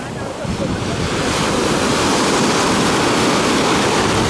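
Mediterranean sea waves wash onto a beach at Alanya, Turkey, a loud continuous surf rush mixed with wind noise on the microphone, rising slightly after the first half second.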